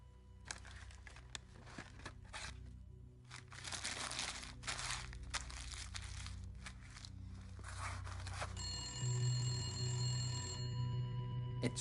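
In the video game The Gallery, a telephone starts ringing with a steady electronic tone after a stretch of crinkling and shuffling noises. The ring is moderately loud and continues to the end.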